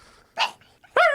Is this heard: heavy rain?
no